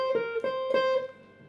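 Electric guitar plays the opening lick of a blues solo, three quick picked notes in a short, clean phrase that fades at the end, close and unaccompanied.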